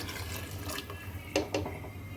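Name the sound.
leftover spinach cooking water poured into the pot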